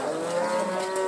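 A cow moos at a cattle fair in Campo Grande, Alagoas, one loud, close, drawn-out low call lasting the whole moment, with no talk over it.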